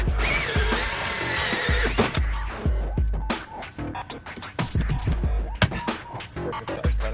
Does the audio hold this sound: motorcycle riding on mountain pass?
no